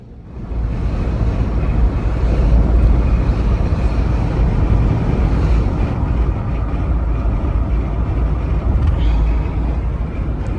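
An orange 2020 Jeep Wrangler Unlimited with coil spring rear suspension drives along, giving a loud, steady rumble of road and wind noise. The noise holds for about ten seconds with no talking.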